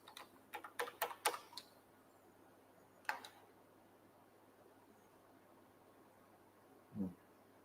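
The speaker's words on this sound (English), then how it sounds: "I think I typed the password wrongly." A password is tapped out on a computer keyboard, a quick burst of faint keystrokes followed by a lone click a couple of seconds later and a soft thump near the end, with no talking.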